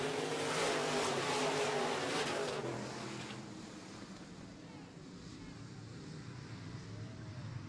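Midwest modified race cars roar together in a B main race, a loud, broad engine rumble that swells and then eases slightly as the pack moves on.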